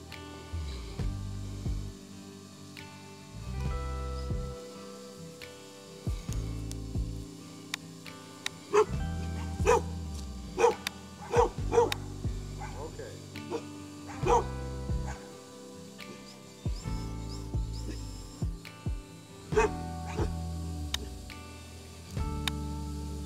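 Dogs bark and yip repeatedly in short bursts during play, moderately close, over a steady background of sustained tones.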